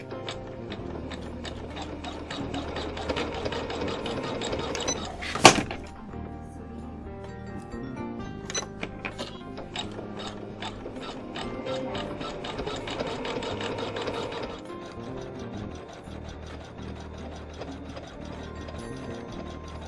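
A HoopSisters embroidery machine stitches a quilt block, its needle running in a steady, fast mechanical rhythm at close range, with one sharp clack partway through and a brief change in pace near the end.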